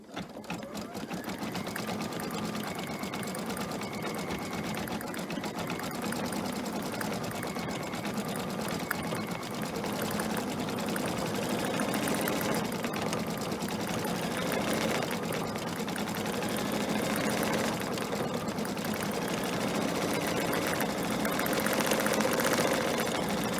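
An embroidery machine stitching blue thread text onto a Fourth of July flag banner, a steady rapid mechanical chatter running continuously at close range with no talking.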